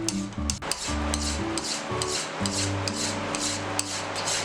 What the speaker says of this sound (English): Hand beveling is pretty easy